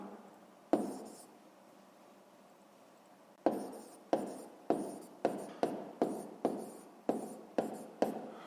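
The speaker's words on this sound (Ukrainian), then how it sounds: "Дев'ять упаковок записуємо таблеток" A pen writes down the answer to a sixth-grade maths exercise: one scratchy stroke, a pause of a few seconds, then a quick run of about ten short, crisp strokes close to the microphone.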